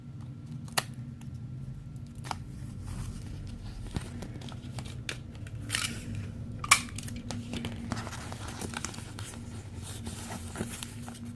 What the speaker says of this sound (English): And now you're going to cut the corners.